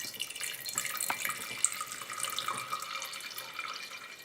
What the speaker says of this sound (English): So let me pour the acid.